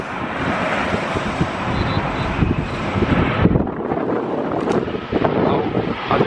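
Strong wind gusting at London Gatwick Airport, buffeting the microphone with rough, fluctuating rumble mixed with distant aircraft and traffic noise, loud and continuous.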